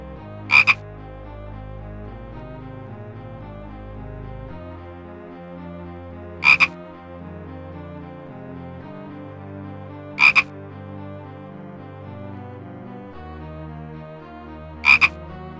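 Short, loud frog croaks from the Simon the Sorcerer PC DOS game sound out four times at spaced intervals. Steady Roland MT-32 music plays underneath.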